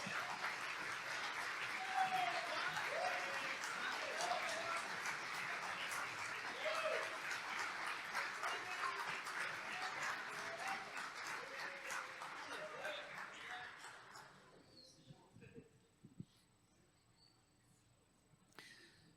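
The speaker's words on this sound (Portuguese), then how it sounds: "Você pode dar uma salva de palmas ao Senhor?" Church congregation applause for the Lord during a sermon, a long run of fairly faint clapping mixed with scattered voices that fades out, leaving near silence with a few small knocks.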